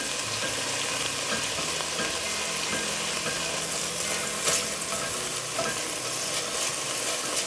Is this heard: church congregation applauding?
no